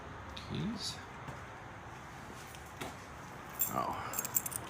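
Car keys for a 1959 DeSoto Firesweep Seville jangle in brief metallic bursts, a short shake near the start and a brighter rattling cluster toward the end, over a quiet background with faint low voice sounds.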